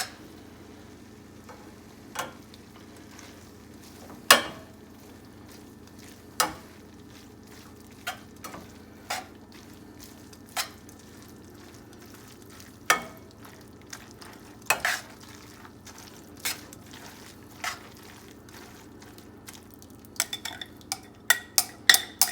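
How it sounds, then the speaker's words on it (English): Carbonara noodles stirred in a pot with a whisk, cheese going in a little at a time: sparse metallic scrapes and clinks at irregular intervals over a low, steady background, with a quick cluster of taps near the end. "we're gonna add it kind of slow, a little bit at a time as we stir our noodles"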